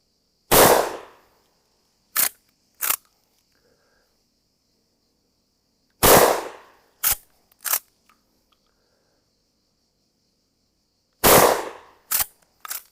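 A Winchester 1887 12-gauge lever-action shotgun fired without a stock: three loud, close blasts spaced several seconds apart, each followed by two sharp mechanical clacks, with near silence in between.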